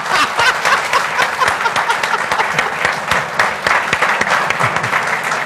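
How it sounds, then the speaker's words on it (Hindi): Dense audience applause with scattered snickers and chuckles fills a Pakistani talk show studio hall after a professor's remark, steady and loud throughout with no talk over it. "ये तालियां आपने अपनी मर्जी से बजाई हैं"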